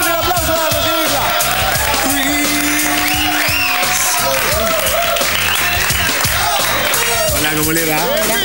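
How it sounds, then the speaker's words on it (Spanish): On a late-night Spanish-language TV show, a studio audience applauds to welcome a guest, clapping heard beneath music and chatter that run throughout. "fuerte el aplauso para recibirla."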